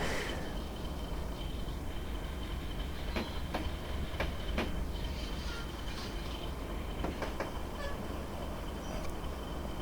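Continuous rumbling ambience of a PRR Baldwin Centipede locomotive in Train Simulator Classic, with creaking, clanking metallic knocks and a faint high whine, steady and enveloping with no talking.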